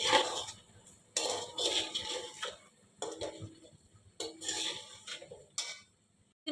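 Utensils clink and scrape against a pot as 1 kg of meat is stirred and fried in oil for chicken pulao, coming in several short bursts of clattering with quiet gaps between them.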